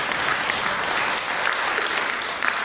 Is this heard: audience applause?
yes